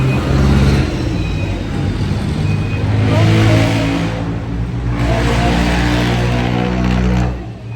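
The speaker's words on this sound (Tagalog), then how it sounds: "Ang ingay ng mga sasakyan." Noisy street traffic with cars passing close by, a loud continuous engine roar with swells as individual vehicles rush past, no talking.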